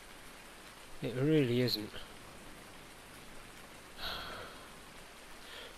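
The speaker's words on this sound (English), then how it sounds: "I thought they fixed the rain falling through thingy. Oh, it must just be leaky roof." Rain falling through a leaky roof in a video game makes a soft, steady hiss throughout, with a voice speaking briefly over it.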